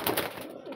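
A Cheena pigeon gives a brief, soft cooing call, close and alone, lasting under a second.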